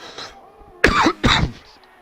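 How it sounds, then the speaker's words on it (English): A race commentator coughs twice into an open microphone, two loud, harsh bursts close together, with a brief breath before them and nothing else around. "I was just too lazy to mute the mic for my cough"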